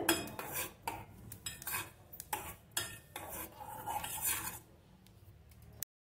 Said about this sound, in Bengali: এর মধ্যে দিয়ে দেবো তিলটা। এটা হালকা আছে রোস্ট করতে হবে।